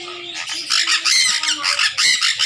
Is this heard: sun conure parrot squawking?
yes